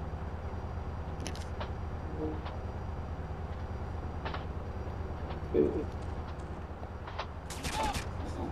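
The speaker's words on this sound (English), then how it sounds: "Still someone shooting at me." Scattered gunshots in the Grand Theft Auto San Andreas video game, sparse and moderately distant over a steady low ambient rumble, with a few sharper cracks.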